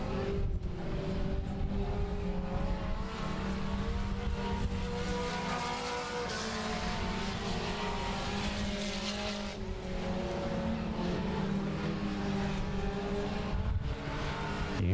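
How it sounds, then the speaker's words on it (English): Race cars roar continuously around a dirt speedway track, a dense, loud engine drone that swells and fades slightly as cars pass, with no break across the stretch. "White flags up one more trip around for Justin Adamson in car 85."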